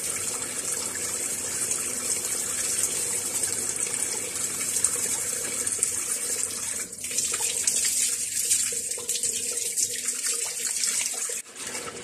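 Tap water runs steadily into a sink while jewelry is rinsed, a continuous hissing splash with brief shifts in tone near the end as the flow is disturbed, no voices.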